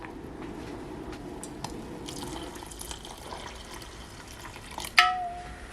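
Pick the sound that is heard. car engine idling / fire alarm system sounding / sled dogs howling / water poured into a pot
water poured into a pot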